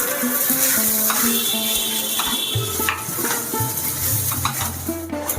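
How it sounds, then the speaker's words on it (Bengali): Gobindobhog rice is stirred and fried in spiced oil with ground ginger, a steady close sizzle broken by repeated scrapes and clinks of a spoon against the pan. "এই ভাজা মশলাটার মধ্যে এই যে গোবিন্দভোগ চালটা দিয়ে দিলাম"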